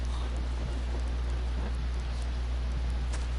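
Steady rain in the survival game Green Hell hisses without a break, with a low constant rumble underneath and a few faint scattered taps; no voices.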